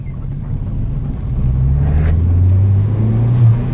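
A Peugeot 207 RC accelerates on a country road, its engine rumble swelling into a rising, louder drone through the second half, heard close from inside the car with no voices.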